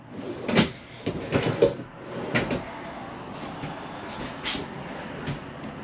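Several wooden pull-out drawers in a Sierra RV slide and knock as they are pulled open and pushed shut, a cluster of clunks early on followed by softer sliding sounds.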